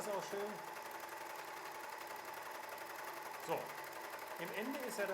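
A W6 N 454D overlock sewing machine finishes the edge of knit fabric, running as a steady mechanical whir at close range while a person talks over it.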